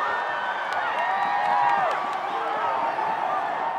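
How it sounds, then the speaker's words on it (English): Crowd cheering at a Texas Tech women's basketball game in an arena, steady roaring cheers and whoops with squeaking sneakers, while a commentator talks over it. "Can you hear the crowd?"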